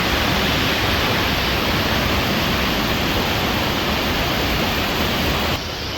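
Waterfall on a walk in the Brecon Beacons, a steady, loud, close roar of rushing water filling the whole clip without a break.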